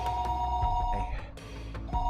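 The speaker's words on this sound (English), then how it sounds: "the phone continued incessant ringing" A telephone rings with a steady electronic tone that repeats briefly, sounding close, over a low background hum, with no talk.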